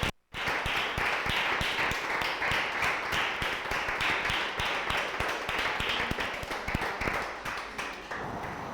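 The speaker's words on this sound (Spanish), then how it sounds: "Vamos a darle un aplauso a este Señor" Church congregation clapping hard and fast in a dense, continuous burst of applause that carries on for several seconds, loud and close, with faint voices mixed in.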